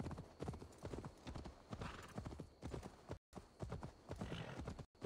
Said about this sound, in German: Warum bin ich hier so lang geritten?